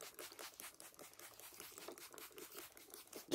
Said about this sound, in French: Maintenant, je vais recouvrir tout ça de terre.